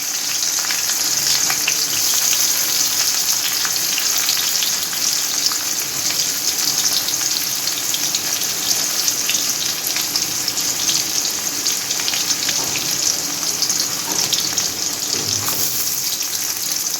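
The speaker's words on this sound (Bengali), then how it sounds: "তারপর হালকা ফ্লেমে পেঁয়াজগুলো ছেড়ে দিলাম।" Onions fry in hot oil over a low flame, a steady close hiss and crackle that holds unbroken for the whole stretch, with faint occasional stirring.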